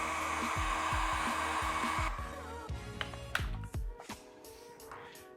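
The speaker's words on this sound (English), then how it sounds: "a quick blast of a hot air gun or hair dryer will help a lot." A steady, loud whooshing blower runs continuously while warming parts for a Honda Goldwing rear lighting install, with a rhythmic low pulsing underneath that fades partway, then intermittent rustling.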